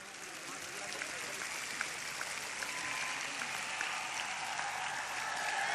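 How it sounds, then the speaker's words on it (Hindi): A crowd at a Mumbra mushaira poetry gathering applauds, a broad, even hiss of many hands heard from a distance, quiet and sustained throughout. "आपकी तालियां कमजोर हैं।"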